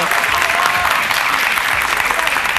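Dense, loud audience applause on a competition show celebrating Tshwanelo's win, a steady wash of clapping with voices mixed in.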